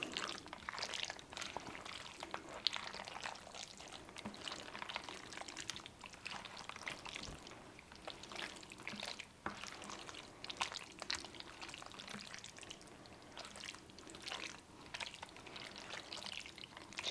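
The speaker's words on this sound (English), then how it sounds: "let me stir this up" Casserole ingredients for a sour cream beef noodle dish are stirred in a bowl, giving a steady wet, squelching mix with soft scraping, continuous and close throughout.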